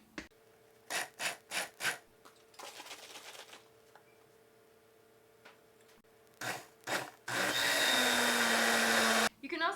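A kitchen blender purees carrot soup with roasted bell pepper, a loud steady whir near the end after scattered clatter and handling noises, then stopping abruptly.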